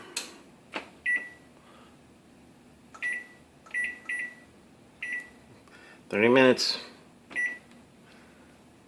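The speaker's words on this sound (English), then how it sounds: "Set my timer." An oven timer beeps while being set for baking Guyanese bake, with a string of short electronic beeps spaced unevenly, close and clear, as someone speaks briefly over them.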